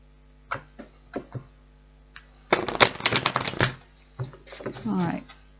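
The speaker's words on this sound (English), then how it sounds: "One more shuffle." A burst of tarot cards being shuffled, a quick riffling rush lasting about a second and a half, near and clear, with sparse taps before and a voice after.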